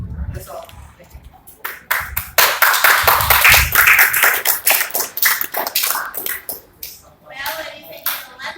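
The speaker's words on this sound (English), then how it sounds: "give a big applause for our speakers" A burst of applause from a conference audience for speakers after a teaching presentation, dense clapping for a couple of seconds, with people talking before and after.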